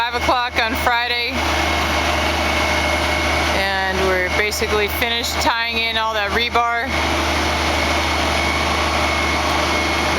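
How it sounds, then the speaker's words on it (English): A steady, loud engine drone from a well drilling rig runs throughout while a person speaks over it, at a monolithic slab foundation site in Alaska. "a little bit loud because they're still drilling the well"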